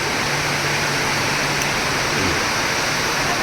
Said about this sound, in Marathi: बाकी बॅकग्राऊंडला पाऊस पण मस्त पडतोय